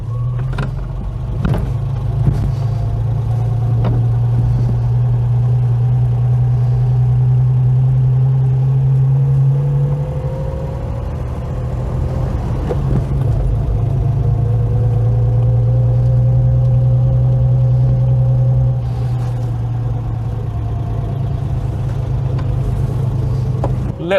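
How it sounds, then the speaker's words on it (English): A Ford Capri MK1, recently revived after sitting for eight years, idles a little high with a steady low engine hum and a faint whir. The sound holds close and constant, with small dips and no talking. "Idle's a little high, I can adjust that."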